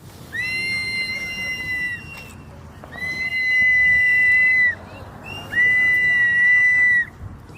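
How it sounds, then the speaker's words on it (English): Three long, shrill whistle blasts sound in a row, each held for over a second, with crowd noise faintly underneath. "You would blow your whistle for Donald Trump."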